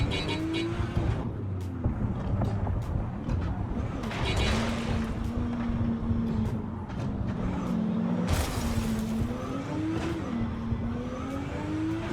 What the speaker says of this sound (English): The city's heartbeat is the roar of engines and the screech of tires